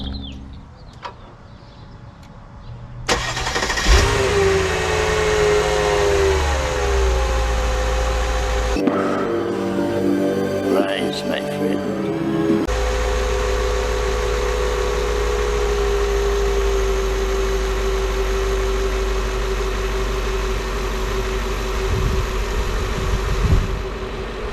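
A Mercedes S-Class, the cheapest in the USA with a collapsed-suspension fault, is started and left running, a steady close engine idle holding for about twenty seconds with a brief louder shift partway through.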